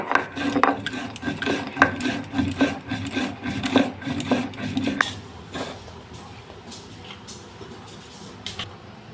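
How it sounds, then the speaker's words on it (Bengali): Roasted whole spices being ground in a kitchen, heard as a steady gritty rasping and crunching that runs for several seconds at close range, then thins out into a few scattered scrapes and taps. "আমি যেই মশলাটা গরম করে নিয়েছি সেটা আমি এখন গুঁড়ো করে নেব"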